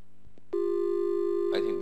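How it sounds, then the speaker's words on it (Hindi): A telephone line drops during a live call-in on a health advice show: soft clicks, then a loud, steady, unbroken line tone holds for over a second before a voice cuts in at the end. "मेरे ख्याल से लाइन ड्रॉप हो गई"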